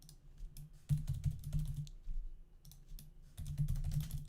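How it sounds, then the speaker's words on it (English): Rapid clattering keystrokes on a computer keyboard come in two dense bursts separated by a brief pause, close and fairly quiet, with no talking. "I'm typing and talking at the same time"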